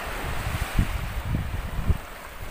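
Mediterranean sea waves wash onto a sandy beach in a low, rolling surge with a few soft thumps of surf, mixed with wind rumble against the microphone.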